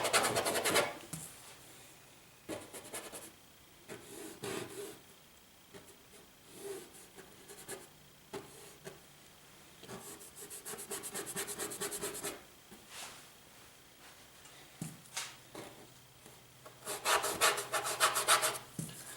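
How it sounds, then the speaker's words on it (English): A dull scrubber brush rubs and scrapes oil paint onto canvas, its side dragged across the surface in short bursts of dry, scratchy strokes that come close to the microphone and pause between passes. "I use the side of it a lot and make these shapes"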